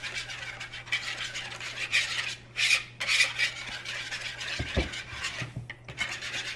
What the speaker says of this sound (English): you definitely want to make sure that you are whisking it well